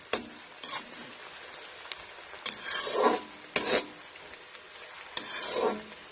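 Onion frying in a pan for an aubergine and tomato bhorta, a sizzling hiss broken by several sharp scraping stirs, louder bursts of crackle coming in waves, close up with no talk.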